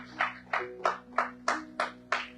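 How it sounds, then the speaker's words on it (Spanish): A church congregation claps together in a steady, even rhythm, six or seven sharp claps spaced about a third of a second apart, with a faint sustained musical tone underneath. "Dele fuerte, fuerte, fuerte ese aplauso al Señor."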